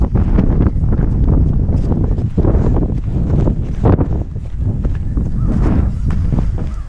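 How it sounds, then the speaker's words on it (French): Strong, cold wind roars and buffets the microphone in loud, continuous gusts that barely let up, outdoors on snow. "le vent est frais"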